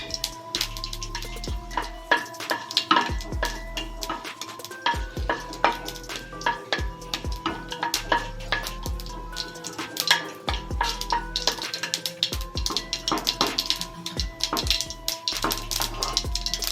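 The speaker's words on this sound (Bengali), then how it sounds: "তেলটা গরম হয়ে গেছে, আমি এবার দেবো গোটা সর্ষে আর গোটা জিরে" Whole mustard and cumin seeds fry in hot oil, giving a steady sizzle with frequent sharp pops and crackles, along with occasional stirring and pan clatter.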